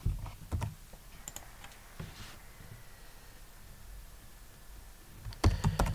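Keys on a computer keyboard tapped to enter a sudo password for an Ubuntu server, quiet clicks coming in short bursts at the start, scattered presses in the middle, and a final quick cluster of keystrokes near the end.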